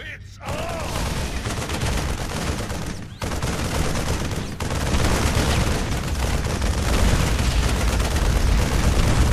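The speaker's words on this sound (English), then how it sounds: "These special artillery attacks can be used against tough targets like this enemy planetary fortress." Thor artillery fire in the StarCraft 2 real-time strategy game against an enemy planetary fortress: loud, dense bursts of booming gunfire and explosions rolling continuously, with a brief gap early on.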